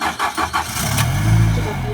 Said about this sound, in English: Only start the engine when it's in the water because it needs the seawater as a coolant.